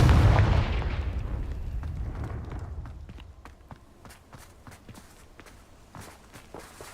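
A Confringo blasting spell in the video game Hogwarts Legacy detonates with a loud boom that fades out over several seconds, followed by light scattered crackling and footsteps.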